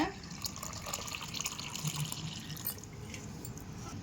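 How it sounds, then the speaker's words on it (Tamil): Tamarind water poured into a fish curry being cooked for a Ramadan sahar meal, a steady liquid trickle and splash with faint clinks, nobody speaking. "புளி தண்ணி சேர்த்துக்கலாங்க."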